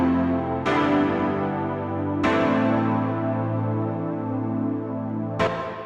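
A chord track from a music mix plays sustained, warm keyboard chords, with each new chord struck about every one and a half seconds and ringing out, clear and alone.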